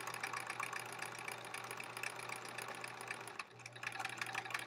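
A sewing machine stitches quilt pieces with a faint, steady, rapid mechanical whir and a low motor hum, slowing briefly near the end before picking up again.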